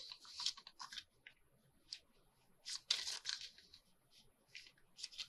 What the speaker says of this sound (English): Let me cut it.